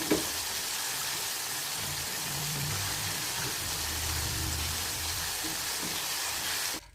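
Continuous crackling sizzle of chicken frying in hot oil in a pot, steady and fairly close, with a faint low rumble underneath and no voices.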